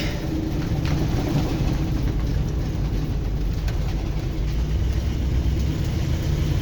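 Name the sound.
1973 Dodge Tioga motorhome engine running while driving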